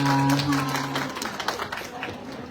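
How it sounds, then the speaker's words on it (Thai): A crowd at a shopping-mall fan event claps as fans are invited up to pose with the performers, a dense patter of hands beneath a lingering tone and some voices, thinning toward the end. "ขอเสียงปรบมือให้หน่อยค่ะ"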